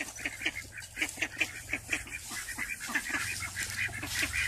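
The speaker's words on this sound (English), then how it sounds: "They're just running around everywhere. There's Mama Hen and her three." Loose hen and her chicks running about, giving a run of rhythmic honking, nasal fowl calls close by that repeat steadily over a low background hum.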